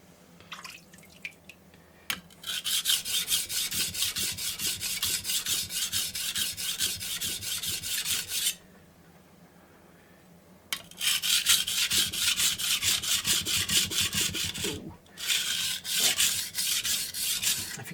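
Knife blade being sharpened on a wet Japanese whetstone, close rhythmic back-and-forth scraping strokes in two long runs separated by a brief quiet break.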